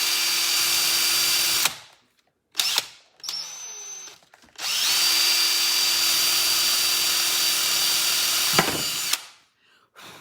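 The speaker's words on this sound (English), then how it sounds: "Open up the power tools." A power drill whines in long steady bursts, stopping and starting several times with short pauses between, close by and loud.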